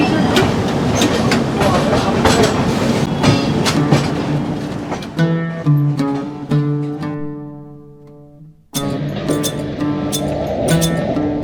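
A moving passenger train heard from inside a compartment just behind the engine, with loud rhythmic clickety-clack over the rails, a stretch of ringing tonal sound that fades, then the rolling clatter resumes.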